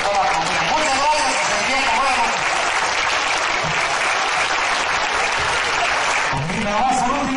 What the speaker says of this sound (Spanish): todos los paisanos nuestros le demos un gran aplauso